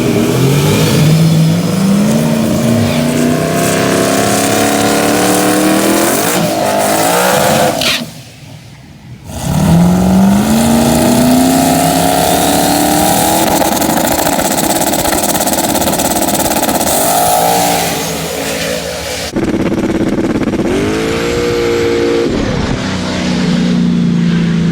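A 5.3-litre turbocharged Camaro drag car with a 107mm turbo, its engine roaring loud and close through rising revs and gear changes, dropping out abruptly for a moment before firing and screaming on again.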